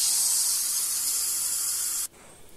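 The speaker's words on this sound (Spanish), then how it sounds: "la vamos a despresurizar poniendo el trapo, abriendo la válvula" Steam hisses steadily from the released valve of a pressure cooker, loud and close for about two seconds, then cuts off abruptly to quiet.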